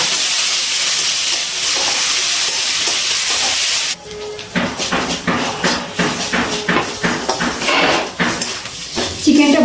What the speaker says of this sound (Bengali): গ্যাসের ফ্লেমটা হাইতে রেখে চিকেনটা ভেজে নিচ্ছি।